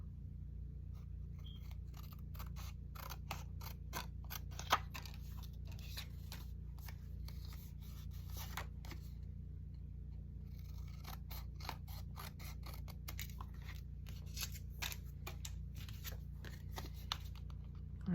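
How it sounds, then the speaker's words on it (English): Scissors snip through paper in a quiet room, a fast run of small crisp cuts that pauses briefly midway and then carries on steadily. "just gonna cut it with my scissors."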